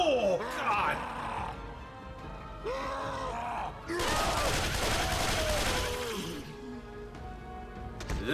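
Gunfire in Left 4 Dead 2, bursts of shots mixed with groaning infected and shouting players, loud and chaotic with overlapping voices.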